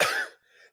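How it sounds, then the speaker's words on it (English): A single short, harsh cough bursts out close by, followed by a faint breathy tail, with no talking over it. "I can't shake this cough."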